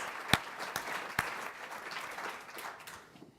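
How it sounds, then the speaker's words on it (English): A forum audience gives brief, moderately distant applause to a panel of presenters, a dense patter of clapping with a few sharper claps that tapers off within a few seconds. "give a round of applause to all of the presenters for such an"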